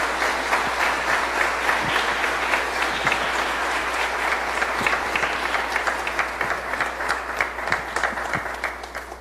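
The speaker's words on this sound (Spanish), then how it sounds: "Vamos a darle un aplauso" A congregation at a church wedding in a parish breaks into sustained applause, many hands clapping steadily at a moderate distance for several seconds, a dense even patter with no speech over it.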